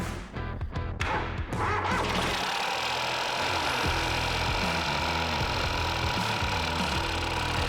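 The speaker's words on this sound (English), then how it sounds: "that rattle you can hear, it's a loose gearbox mount" A MK7 Ford Fiesta engine starts and runs steadily at idle with a loose gearbox mount, a dense continuous mechanical rattle and hum filling the whole stretch after a couple of sharp start-up bursts, close and loud.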